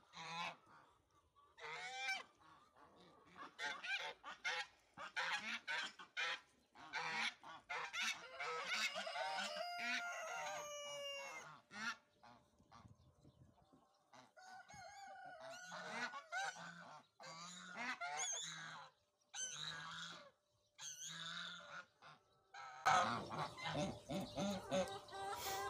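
Domestic geese honking in a poultry yard, with repeated loud nasal honks and calls from several birds, some overlapping, close by and spaced by brief quiet gaps.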